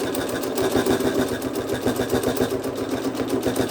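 A sewing machine runs steadily while free-motion quilting loops on a patriotic quilt. Its fast, even needle chatter and motor hum stay close and continuous with no pauses, and no one talks.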